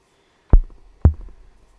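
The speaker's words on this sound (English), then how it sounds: "It's just like a tom, a low tom." Two deep, punchy low tom hits from a drum machine, spaced about half a second apart, each with a quick decay, sounding close and clean.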